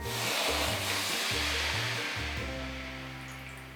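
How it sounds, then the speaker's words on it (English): Mushroom soaking water is poured into a hot pan while cooking Hakka poon choi, making a loud, close, continuous hissing sizzle that slowly fades toward the end. "Now all you need to do is then pour it into the pan, just the water."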